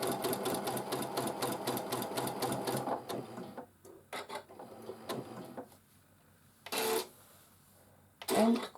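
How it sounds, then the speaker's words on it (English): A sewing machine quilts patchwork along diagonal lines, with about three seconds of continuous rapid stitching. Shorter bursts and stops follow, ending with a few louder sharp clicks. "And quilting, covering my patchwork with diagonal lines."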